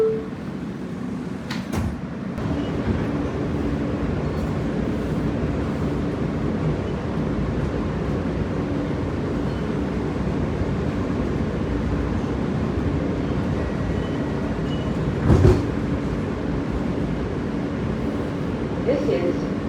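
A Coney Island–Stillwell Avenue bound F subway train running on the D line near 79th Street and 18th Avenue, a steady loud rumble and rattle of the moving car throughout, with a sharp clank near the end.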